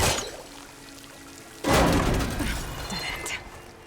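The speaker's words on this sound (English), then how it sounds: "Water's coming from that vent." Water gushes from a vent in the Horizon Forbidden West video game, starting as a faint trickle and then bursting into a loud, steady rushing pour partway through.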